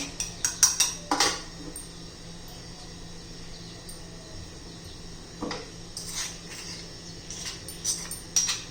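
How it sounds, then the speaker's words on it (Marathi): Grated carrots are mixed into chutney with a metal spoon, giving bursts of clinking and scraping against a bowl between quieter stretches, close and fairly soft. "आता त्याच्यामध्ये आपण गाजर घालून घेऊया व्यवस्थित मिक्स करूया"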